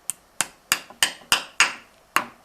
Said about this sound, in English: hitting that with the hammer gently, not too hard, will lay it flatter